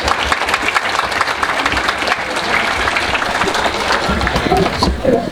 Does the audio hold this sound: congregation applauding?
yes